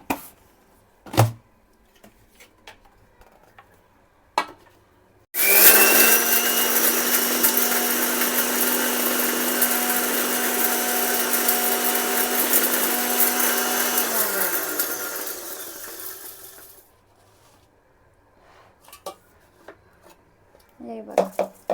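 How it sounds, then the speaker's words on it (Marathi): A kitchen mixer grinder pulverises peeled cardamom with sugar in one loud, steady whirring burst of about ten seconds that starts abruptly and winds down, with brief knocks and clatter before and after. "आता मी मिक्सरला बारीक करणार आहे."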